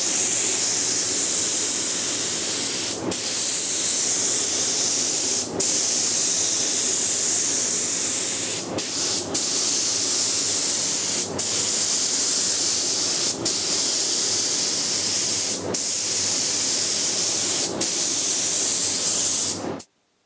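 Continuous close hiss of a spray gun applying high build primer to an MGB GT bonnet, a steady roar broken by brief cut-offs every few seconds before stopping at the end.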